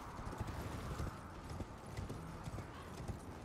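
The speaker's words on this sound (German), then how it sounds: "Ich hab einfach das bessere Pferd." Quick rhythmic hoofbeats of a galloping horse in Elden Ring, steady and fairly quiet, with no talking.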